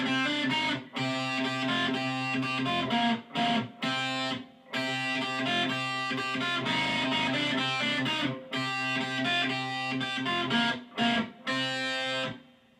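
A distorted electric guitar riff plays loudly and steadily, chugging notes broken by a few brief pauses, with no voices; the intro riff of a song.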